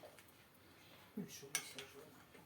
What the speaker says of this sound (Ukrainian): Тепер акуратненько отак от все це перемішуємо.